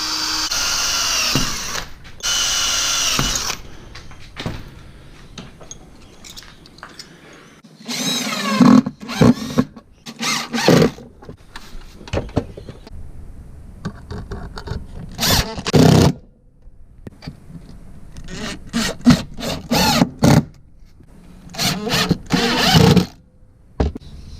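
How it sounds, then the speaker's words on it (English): A power drill whines in repeated bursts drilling holes in a bracket, with pauses, clatter and handling noises between runs, close by. "Let's drill a couple of holes so I can put my screws in."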